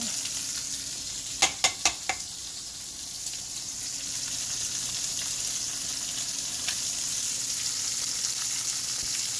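Shrimp for shrimp scampi sear in a hot pan with a steady, bright sizzle, punctuated by a quick run of four sharp clicks or taps early on.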